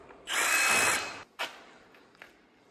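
A power drill or driver spins out tiny 8mm bolts holding a plastic intake manifold on an LS engine: one loud whirring burst of about a second, then two brief, fainter zips.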